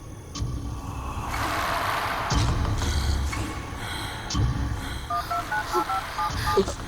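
A short run of telephone keypad dialing tones, several distinct beeps in quick succession, sounds inside a moving car against a steady engine and road rumble.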